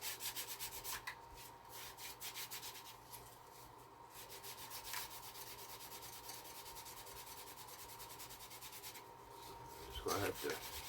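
Continuous hand sanding on a wooden lifeboat model, a rapid gritty back-and-forth scratching under a faint steady hum, with a brief knock near the end.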